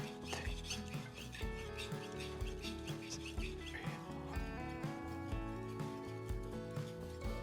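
Rhythmic rasping strokes of a dull knife being sharpened at an angle, repeated scraping passes close up, with a tonal ringing music-like background running underneath.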